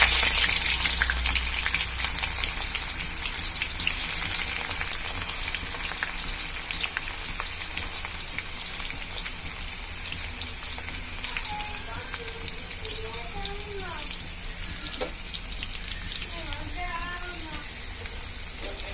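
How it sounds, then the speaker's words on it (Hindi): Onions dropped into hot cleared oil in a kadhai give a loud, continuous close-up sizzle and spatter, with occasional scraping and brief bits of talk under the frying. "चलिए मेरा जो ऑयल है गर्म हो चुका है। मेरा अभी जो प्याज है वो मैं डाल दूँ।"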